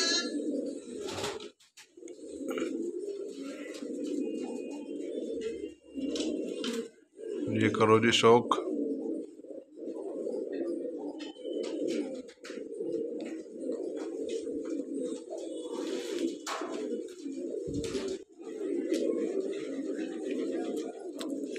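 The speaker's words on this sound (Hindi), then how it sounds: "ये सभी कबूतर अपने जोड़ों वाले हैं।" Domestic breeding pigeons, paired birds kept at home, coo steadily in a low rolling murmur throughout, close by, while someone speaks over them now and then.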